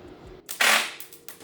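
A car starter motor on a turbocharged mini Jeep trying to turn over the engine, heard as a brief sharp mechanical snap followed by a short whirring burst, loud and close with no talk.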